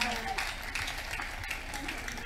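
A crusade crowd in Abuja claps for Jesus after healing testimonies, a steady wash of applause with a voice talking faintly over it.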